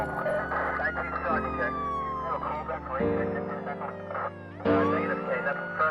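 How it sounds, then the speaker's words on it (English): A wailing ambulance siren sweeps up and down loudly and close by, with its tone shifting in repeated cycles. "Move aside, let the ambulance through."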